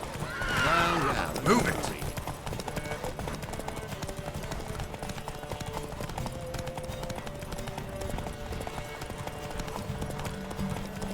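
A racehorse gallops in The Witcher 3 horse race with steady rapid hoofbeats throughout and a sharp neigh early on, while a voice shouts over the run.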